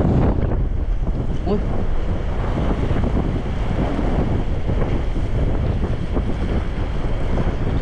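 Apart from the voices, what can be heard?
strong wind on microphone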